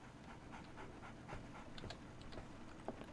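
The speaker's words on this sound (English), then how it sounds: "I hear a doggy." A basset hound pants in a Sherlock Holmes The Awakened game scene, a soft, steady breathy rhythm at moderate distance over a low ambient bed, with a few brief higher whimpery squeaks near the end.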